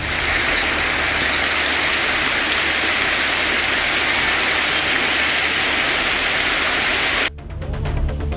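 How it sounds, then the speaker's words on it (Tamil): Heavy rain pours down at midnight in a storm with strong wind, thunder and lightning. A dense, loud, unbroken hiss of downpour fills the scene without a break until a sudden cut near the end. "பலத்த காற்று மற்றும் இடி மின்னலுடன் மழை கொட்டியது"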